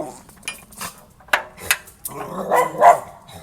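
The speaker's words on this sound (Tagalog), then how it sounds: "Bari, nakita kasi ng aso pa yan." A dog barks a few times in short, sharp bursts, mixed with clinking of dishes nearby.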